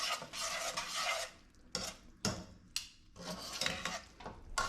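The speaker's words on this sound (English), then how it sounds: "So I'm going to give those one last stir to combine" Pasta with Parmesan cheese is stirred off the heat, producing close, wet squelching and scraping bursts in uneven strokes with brief pauses between them.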